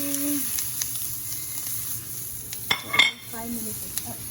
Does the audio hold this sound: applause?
no